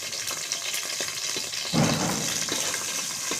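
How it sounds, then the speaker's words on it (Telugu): Food frying on a low flame in a pan, a steady soft sizzle with a brief louder stir-and-hiss burst midway, heard close with no voices. "లో ఫ్లేమ్లో ఫ్రై చేసుకోవాలి"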